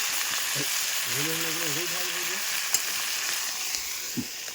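Chicken sizzles and fries steadily in a pan with chili and tomato, a constant crackling hiss throughout with a brief voice and a few faint clinks over it.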